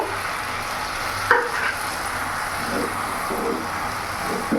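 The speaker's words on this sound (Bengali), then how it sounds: "ভালো করে নাড়াচাড়া করে আমি এখনো 10 মিনিট ধরে এটাকে ভালো করে কষিয়ে নেব" Chicken ghugni masala is stirred in a pan, producing a soft continuous sizzle with faint scraping and a light clink near the start, with no voices.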